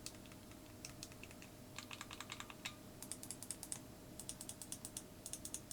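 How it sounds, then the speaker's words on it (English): NYXI Hyperion 2 Joy-Con controller with mechanical micro switch buttons, pressed in quick bursts of sharp, light clicks, fairly close and faint over a low steady hum, with no talking. "the mechanical micro switches, which make every button press feel sharp and responsive"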